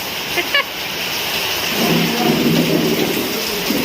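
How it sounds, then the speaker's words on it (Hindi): Heavy monsoon rain during a low-pressure storm pours down in a loud, dense, steady hiss with splashing on surfaces, with a brief tapping near the start and a low rumble later on. "देखु केते जोर वर्षा हो केते मस्त देखा"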